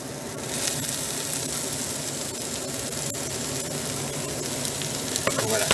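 Sliced bell peppers fry in a pan with chicken and chorizo, giving a steady, dense sizzle that continues evenly throughout, with a few faint stirring scrapes near the end.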